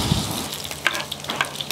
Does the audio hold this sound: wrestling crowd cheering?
no